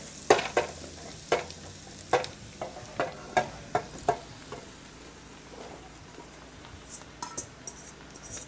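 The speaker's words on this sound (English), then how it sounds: "Right now we're going to be adding the mushrooms into the soup too" Mushrooms are tossed and stirred into a pot of soup with cooked onions and garlic, giving a run of sharp taps and scrapes in the first four seconds over a soft sizzle, then quieter scattered clicks, close and unvoiced.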